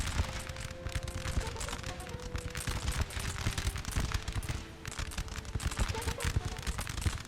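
Musket volleys from infantry lines in a Napoleon: Total War battle form a dense, continuous crackle of overlapping shots throughout, with someone talking over the gunfire.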